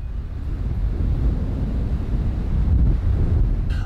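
Strong wind blowing during a storm at Hestnæs, a steady loud rushing roar with buffeting against the microphone, continuous throughout with a slight swell toward the end.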